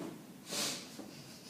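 A person imitates a single short snort-like sniff of breath, soft and close, standing out briefly against quiet background noise.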